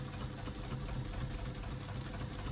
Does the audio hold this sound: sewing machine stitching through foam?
yes